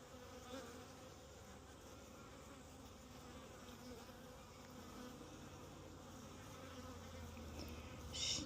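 Honeybees buzz steadily at an open, defensive hive during an apiary inspection, a continuous soft droning swarm with no voices.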